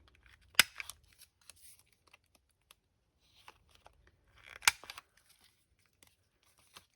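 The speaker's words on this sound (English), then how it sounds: "So I'm going to do a corner rounding. So I'm going to round my corners." Sharp clicks of a corner rounder punch biting through a paper bookmark, two distinct loud snaps with faint paper handling and rustling between them in a quiet room.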